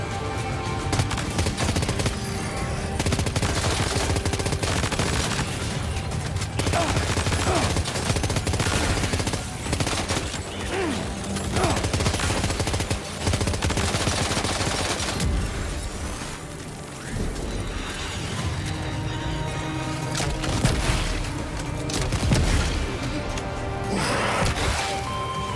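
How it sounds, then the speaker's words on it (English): Heavy mech-sized gun firing in Death Stranding 2, loud sustained bursts of gunfire with crashing impacts, dense and continuous over game music and effects. "Firing that gun is so hard, dude."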